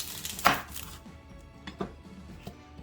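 A knife slicing an onion in half on a cutting board, one loud firm chop followed by a few softer taps and knocks, close and clear with no talking.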